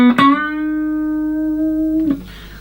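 Electric guitar plays a short lick from a guitar solo: a quick picked attack, then one sustained, slightly bent note held for about two seconds before a final pluck, close and unaccompanied.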